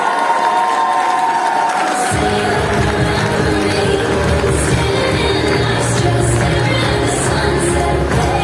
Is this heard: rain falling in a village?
no